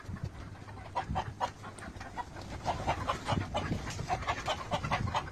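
Five-month-old Fayoumi laying hens cluck and murmur in a continuous, fairly close chorus of short, repeated calls over a low farmyard rumble.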